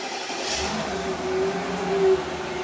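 A cheap Mercedes-AMG car with a welded differential, its engine turning over and settling into a close, steady low rumble with a faint tonal whine, while the idle swells slightly toward the end.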